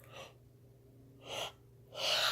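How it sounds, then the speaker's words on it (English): A person yawning in a quiet room, giving three breathy, drawn-out exhalations with pauses between them, the last one the longest and loudest. "Why am I yawning?"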